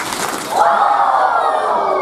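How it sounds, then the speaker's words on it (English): A group of football campers gives two quick claps and then a loud, sustained shouted woo, the crowd voices swelling together and holding for over a second. "Give me 2 claps and a Ric Flair."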